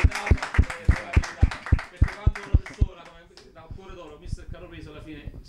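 Rhythmic clapping from an event audience in Italy, a steady beat of sharp claps for about three seconds before fading into a murmur of crowd voices and talk.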